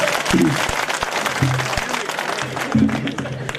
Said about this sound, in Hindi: एक बार तालियां बजा दो, फिर जोरदार सा खोल दो वातावरण को।